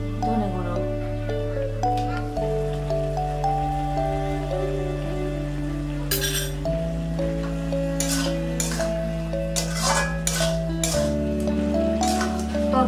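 Shrimp curry with coconut gets stirred in a pan after coriander powder is added: short scraping bursts sit under steady, louder background music.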